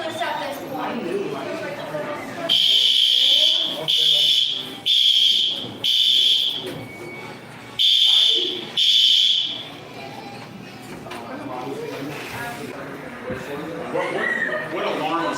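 A loud, shrill alarm beeps in a series of long pulses, six bursts with short gaps, while people talk and chuckle around it, voices continuing before and after the alarm stops.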